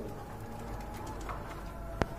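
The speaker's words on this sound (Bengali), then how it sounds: "এই যে দেখেন অনেক বড় সাইজের কবুতর" Large Bombay pigeons cooing softly nearby at a pigeon market, a low murmuring coo under faint background noise, with one sharp brief knock near the end.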